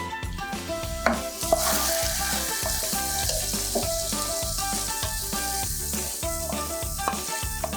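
Gongura mutton curry, Andhra style, frying in a pan: a steady loud sizzle with clinks and stirring scrapes of a utensil, close up, no talk.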